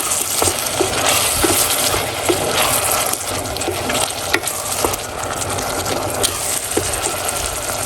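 Sweet potato and tuna being stirred in a pan, a spoon scraping and clacking in a steady rhythm over a constant wet sizzle, close and fairly loud, with no talk.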